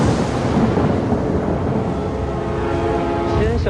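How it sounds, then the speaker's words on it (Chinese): Thunder rolls as a loud, continuous low rumble that fills the whole stretch, with a faint voice-like tone near the end. "只是凑巧撞上打雷天而已。"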